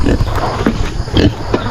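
Pigs grunt and snort in short, irregular bursts close by, several squeals and oinks overlapping against a low rumbling background.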